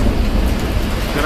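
Heavy rain and hail pouring down during a Moscow thunderstorm, a loud dense roar with low rumbling thunder rolling underneath throughout.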